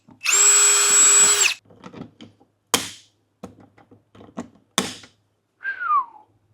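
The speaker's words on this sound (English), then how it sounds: "I'll go that little bit further, and I'll pop some rivets in it" A power drill whines for about a second while fitting a camper trailer, followed by a few sharp snaps and taps as pop rivets are set one after another, close and loud, with no talking.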